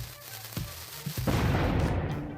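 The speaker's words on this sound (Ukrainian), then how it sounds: "Чудовий вибух." A sharp pop as a lit fuse sets off a charge, followed by a loud, rumbling blast that lingers and fades, fairly close.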